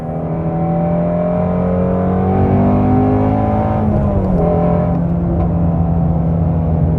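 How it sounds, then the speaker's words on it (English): A 2020 Ford Shelby Mustang GT350R, 520 horsepower, pulls hard in third gear, its engine note rising in a loud, continuous, screaming wail heard from inside the car with no talking. "once you shift into third gear, let's do that quickly, this engine is basically screaming at this point"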